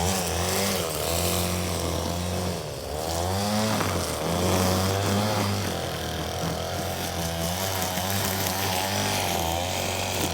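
A string trimmer runs steadily and loudly close by on a farm, its buzzing engine holding a constant whine with slight pitch shifts, and no talk over it.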